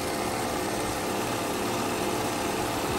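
A BMW M3 convertible engine, a salvage-auction car with about 137 miles on the clock, idles steadily with a low, even hum and no one talking.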